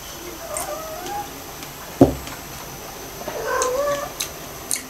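A cat gives a short, faint meow amid quiet indoor room tone, followed by a few more soft, drawn-out cat vocalizations, with no speech.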